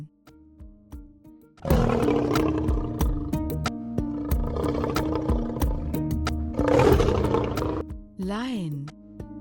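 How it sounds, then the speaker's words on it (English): A lion roars loudly at close range in long, rumbling bursts, with a voice naming the animal layered over it, followed by a short swooping tonal sound at the end. "Lion."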